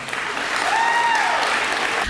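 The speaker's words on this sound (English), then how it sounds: "Please give Amy Lucy a big round of applause." Dense, continuous applause from a school assembly audience at a hall of fame ceremony, a steady wash of many hands clapping, with a faint tonal whistle or squeal rising briefly through it.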